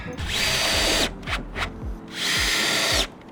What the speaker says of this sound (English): Get a couple of screws in that, James.